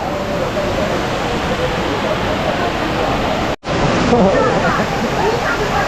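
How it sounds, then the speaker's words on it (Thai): Constant heavy roar of a waterfall in Furong ancient town, heard close and loud while passing through a tunnel beneath it, broken by one brief dropout, with a voice faintly audible under the noise. "เราจะไปลอดน้ำตกภายในหมู่บ้านภูหลงเจิ้นนะครับ"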